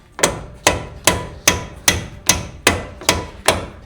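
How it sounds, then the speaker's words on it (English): Nine sharp, evenly spaced hammer blows ring out one after another at a steady pace, loud and close, with no talking. "Have you got a hammer? A hammering device?"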